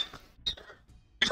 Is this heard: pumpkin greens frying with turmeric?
no